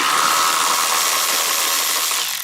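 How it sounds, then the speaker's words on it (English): A power tool whirs steadily and close by while removing the 10 mm screws that hold a BMW F80/F82 tail light, one continuous buzzing run that tapers slightly at the end. "It's just 2 screws that's holding this tail light on. Let's go ahead and take those 2 screws off."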